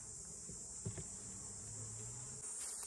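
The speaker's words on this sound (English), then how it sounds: "So it's really gonna piss the bees off." Agitated honey bees buzz steadily around an opened hive during a Langstroth to top bar transfer, a dense continuous drone with a few brief knocks and no talking.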